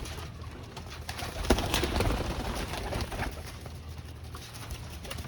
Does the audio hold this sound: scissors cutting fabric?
no